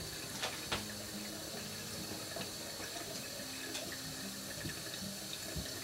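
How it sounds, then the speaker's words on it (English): Tap water runs steadily into a sink at a moderate level, a continuous splashing flow with small clinks and household sounds mixed in, and no talking over it. "Now I need you to turn your water off"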